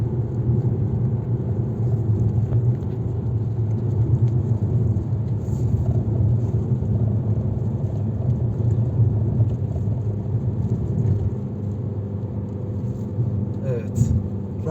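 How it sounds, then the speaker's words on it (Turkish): A Fiat Egea Cross Urban 1.4 climbs a steep mountain road uphill in fourth gear at about 3000 rpm, its steady low engine and road rumble continuous and close throughout, with a brief extra noise near the end. "4. vitese gidiyoruz ama rampa yukarı çıkıyoruz"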